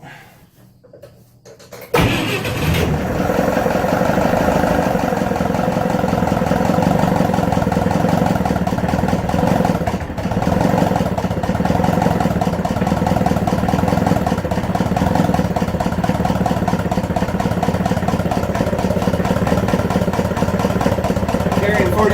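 Atomic 4 gasoline inboard engine in an Irwin 32 sailboat, running steadily near full throttle after starting with half choke; a loud, continuous mid-pitched rumble that fills the clip after a brief quiet opening.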